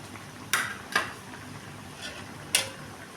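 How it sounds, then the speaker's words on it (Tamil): Thick okra gravy simmers in a pot, giving a few sharp, scattered pops and plops over a quiet background, with no one talking. "பாருங்கள், அந்த வெண்டைக்காய் குழம்பு நல்லா கொதிக்குதுங்க."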